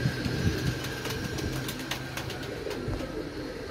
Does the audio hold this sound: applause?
no